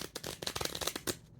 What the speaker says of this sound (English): it's been a while since I've shuffled the deck of cards.